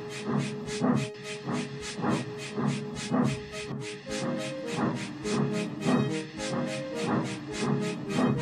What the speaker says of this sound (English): It was Gordon steaming in with the royal train.